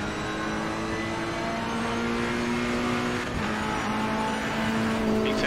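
A Lamborghini race car in the Assetto Corsa Competizione racing game roars at steady high revs, its engine drone sustained and loud throughout, with a slight pitch dip midway as it shifts, no voices present.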